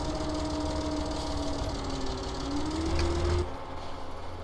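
Tractor engine droning steadily while mowing grass in Farming Simulator 17, a loud continuous hum with a rising whine that stops abruptly near the end, no talk.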